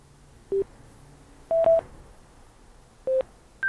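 A motorcycle intercom entering pairing mode gives a short series of electronic beeps, four brief tones at rising and varied pitches spaced about a second apart, with quiet in between.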